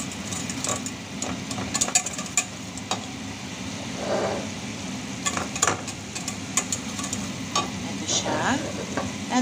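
Butter and a spoonful of flour stirred together in a hot pan, a steady close sizzle broken by quick scraping strokes of the utensil, with no talking.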